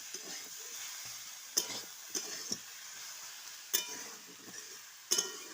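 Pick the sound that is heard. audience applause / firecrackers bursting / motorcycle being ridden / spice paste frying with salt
spice paste frying with salt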